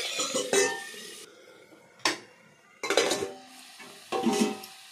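Drumsticks and potato pieces frying in oil in a pan are stirred, with a spatula scraping and clinking against the metal in several separate bursts over a low, steady sizzle.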